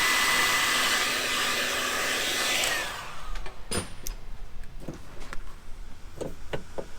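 Heat gun blowing hot air onto heat shrink tubing during a 12-volt touring vehicle wiring install: a loud, steady airy roar for about three seconds that cuts off, followed by faint clicks and handling taps.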